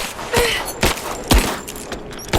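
Gunfire rings out in the video game Rise of the Tomb Raider on PS4: a handful of sharp, loud shots spaced irregularly, each with a short echoing tail, over a low background of combat noise.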